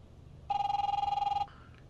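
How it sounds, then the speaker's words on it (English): Telephone ringing in the video game The Wolf Among Us, a single electronic ring burst of about one second, loud and close, followed by a brief softer tone with no talking. "Who's on the phone"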